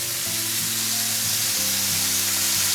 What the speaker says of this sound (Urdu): اس کو فرائی کریں ایک سائڈ سے